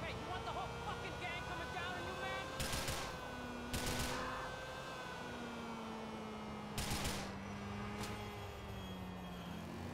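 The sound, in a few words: gunfire in the video game Grand Theft Auto IV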